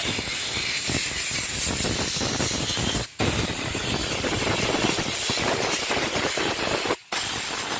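A steady, close hiss of cleaner being sprayed onto a motorcycle drum brake runs almost continuously, broken by two short pauses where the spray stops.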